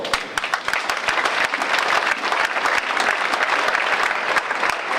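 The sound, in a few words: audience applause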